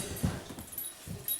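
A dog whimpers and yips softly while playing with toys indoors, two or three short, faint whines heard close by with no talk.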